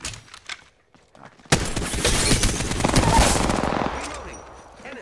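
Sustained automatic gunfire in the battle royale shooter Apex Legends, a loud rapid burst of shots lasting a few seconds after quieter scattered sounds, close and dominant, fading at the end.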